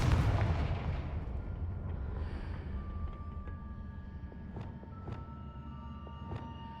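A Confringo blasting spell from Hogwarts Legacy, a heavy booming explosion that opens loud and rumbles away, followed by fading debris and faint chiming tones.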